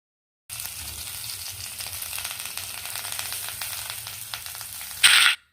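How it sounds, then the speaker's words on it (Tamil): Betel leaves sautéing with garlic in a pan, a loud, even sizzle throughout that flares sharply near the end, with no talking. "இந்த வெத்தலையை இப்போ லைட்டாக வதக்கிக்கலாம்"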